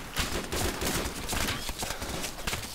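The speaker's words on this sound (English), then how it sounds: "That fire's coming in from our southeast, so let's keep it moving southwest." A dense barrage of gunfire from a tactical shooter video game fills the whole moment with loud rapid overlapping shots, several weapons firing at once with no break and no voices.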